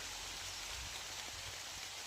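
Steady hiss of rain falling outdoors, a broad continuous wash with a few soft low patters from drops landing nearby, no voices.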